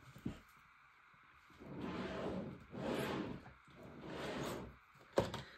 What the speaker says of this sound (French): ce tiroir fait un peu plus de bruit